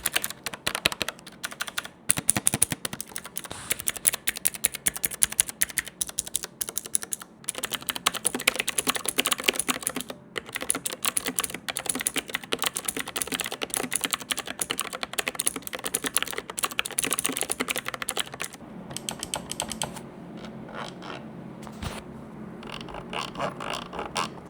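Rapid typing on a Kickstarter-funded mechanical keyboard, a dense, continuous stream of close, crisp key clicks and clacks with brief pauses, steady in loudness throughout.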